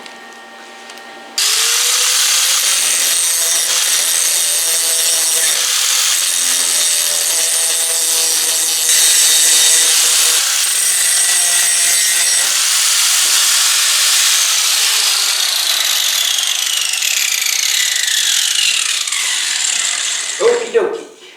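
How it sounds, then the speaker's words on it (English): A handheld angle grinder runs continuously on a metal pin for a homemade scrap-metal brake, a loud steady whine with shifting pitch as it bites the steel, winding down abruptly at the end. "Get the grinder."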